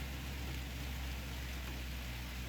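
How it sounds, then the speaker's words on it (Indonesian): Steady rain falling at a lake high on a mountain, a continuous even hiss of drops on water and surfaces with a low rumble underneath, no voices. "Dan kondisi saat ini sedang hujan."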